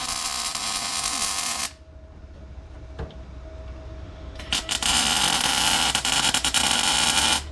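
Welding on a rusty truck produces a loud, harsh crackling hiss that stops for a few seconds of quieter background and then resumes with sputtering, popping bursts.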